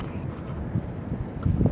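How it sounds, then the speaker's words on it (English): Strong wind gusting outdoors on a warm day, a steady low buffeting roar across the mic with a few heavier gusts near the end, no voices. "So it's really windy, but it's still warm out."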